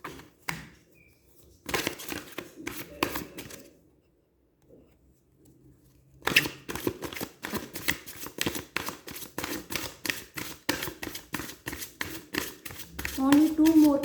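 Tarot cards being shuffled by hand at close range, with rapid riffling and flicking bursts that pause and resume, ending in a dense run of quick card slaps, while someone speaks at times in between.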